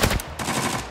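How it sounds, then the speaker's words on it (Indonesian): Close, loud automatic rifle fire in the shooter game Arena Breakout, a rapid burst of overlapping shots lasting under a second. "Wih, ada suara ini tembakan"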